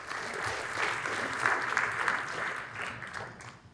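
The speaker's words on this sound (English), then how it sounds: "So round of applause for Todd" Audience applause for a panelist at a rental housing industry panel roadshow in Toronto, a steady, moderately loud wash of clapping lasting several seconds before fading slightly at the end.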